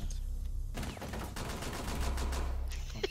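Rapid pistol fire in the tactical shooter Rainbow Six Siege, a loud cluster of sharp gunshot bursts in the game mix that starts after a brief quieter moment and continues to the end.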